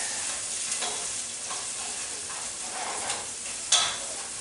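Onion sautéing in a pan for asparagus soup in a home kitchen, a faint, steady sizzle with soft stirring scrapes and one sharp utensil clink near the end.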